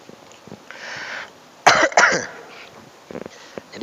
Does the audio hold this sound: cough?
yes